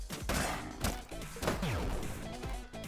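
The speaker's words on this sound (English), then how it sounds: "Stay away from the explosions." Explosions in the video game Forager: a rapid series of crashing, popping blasts and thuds over constant busy game sound, moderately quiet overall and continuing without a break.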